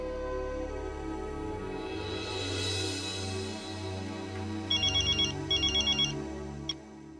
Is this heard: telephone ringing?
yes